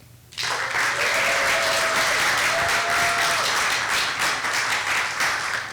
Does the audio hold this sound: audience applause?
yes